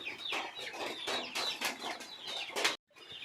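Several chickens cluck and squawk close by in the rain in quick, irregular bursts, with a brief silence near the end before clucking resumes.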